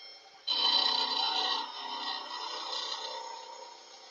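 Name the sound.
sanding wood with sandpaper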